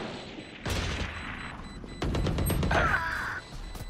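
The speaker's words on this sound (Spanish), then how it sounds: "El disparo para asustarlo." Gunfire in the Valorant video game: two sharp, loud bursts of shots about a second and a half apart, each followed by a rattling tail, with quieter game effects and chirps in between.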